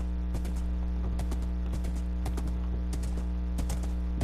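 Horse hooves clip-clopping in Minecraft, a steady loud rhythmic beat of hoofsteps repeating about twice per second over a constant droning game background.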